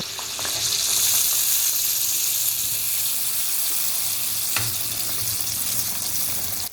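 Sweet appam batter fries in hot oil in a pan, a loud, close, steady sizzle with crackling hiss that holds evenly throughout, no voices.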